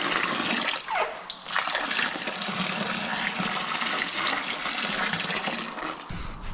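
Coolant spills from a Duramax radiator hose in a rushing, splashing stream that pours steadily for several seconds, loud and near, then eases off near the end, with no talking.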